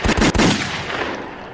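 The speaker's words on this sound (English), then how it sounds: "Damn, you did gunshots." A gunshot sound effect played on a radio show: a rapid burst of sharp, loud shots at the start, followed by a fading echo tail with no talk.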